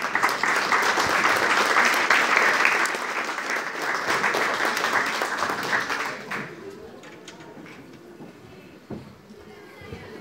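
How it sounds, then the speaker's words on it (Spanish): Audience applause for belly dancer Aniela rises loud and dense at once, holds for about six seconds, then fades into scattered late claps and faint room noise. "quiero pedir un fuerte aplauso para Aniela,"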